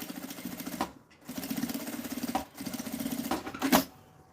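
A sewing machine topstitches a zipper pencil case, running in three steady bursts of rapid stitching separated by brief pauses, close and clear.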